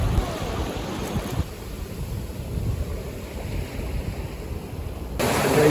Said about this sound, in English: Crossing the river, the strong current.